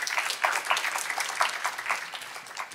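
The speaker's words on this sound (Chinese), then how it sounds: "相信的再次拍掌，把荣耀归给主" A church congregation claps hands in praise, a dense, steady patter of many palms that stays fairly loud throughout with slight swells and no voices on top.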